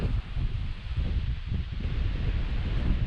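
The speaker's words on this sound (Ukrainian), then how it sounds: "Задуває дуже такий сильний вітер, неприємний." Strong wind roars and buffets the microphone in steady, heavy gusts on a winter hike in the Carpathian Mountains, a low rumbling blast that never lets up.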